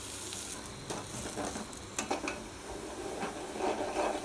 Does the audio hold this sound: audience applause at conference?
no